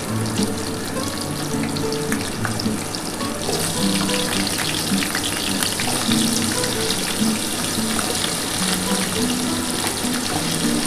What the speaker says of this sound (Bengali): দিয়ে এবার আলুগুলো আমি ভেজে নেব